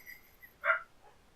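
A single short bark-like yelp, voiced by a person imitating dogs at a late-night veterinary office, fairly soft and isolated against quiet background.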